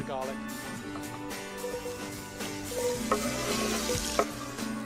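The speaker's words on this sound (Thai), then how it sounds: "เทน้ำมันมะกอกใส่กระทะร้อนๆเอาหัวหอมใส่เข้าไปแล้วก็" Steady sizzling of onion and garlic frying in hot olive oil, with occasional stirring clinks and a voice talking over it.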